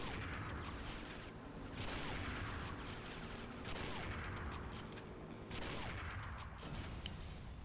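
Video game gunfire from James Bond 007: Nightfire comes as sustained, dense volleys of rapid shots and bursts, with brief lulls between heavy clusters, heard fairly quietly.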